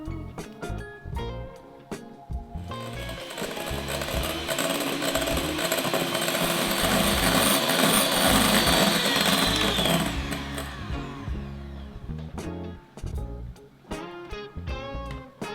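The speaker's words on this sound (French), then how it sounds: "on sépare le blanc du jaune et on monte les blancs en neige" Electric mixer whipping three egg whites into stiff peaks for knaidlech dumplings, a steady high whir in the middle of the clip with clinks and knocks before and after.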